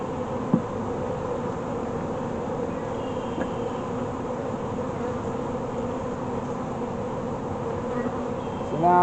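Honey bees hum in a dense, steady drone around an open hive as a package of bees is installed outdoors, faint and continuous with a brief louder burst at the end.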